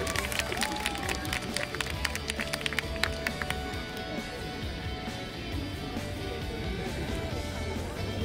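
Festival audience at the 30th Kolkata International Film Festival clapping and cheering in a dense, sustained wash of applause, crisp individual claps standing out early before settling into a steady roar of the crowd.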